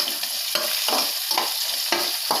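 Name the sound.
frying and stirring cashews and raisins in ghee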